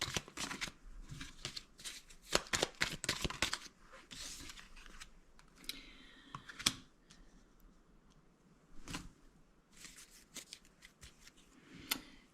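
Oracle cards shuffle and snap close by in crisp bursts of riffling and tapping, then a few softer single slides and flicks as cards are drawn, faint and without voices.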